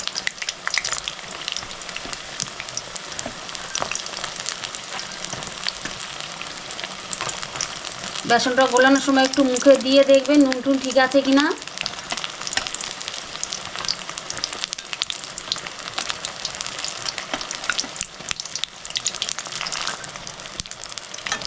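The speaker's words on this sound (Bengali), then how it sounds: "সুন্দরভাবে উল্টাই পাল্টাই লাল লাল করে ভেজে নেবেন।" Bok flower fritters fry in hot oil with a continuous crackling sizzle. Someone talks over the frying for a few seconds midway, and the sizzle carries on alone afterward.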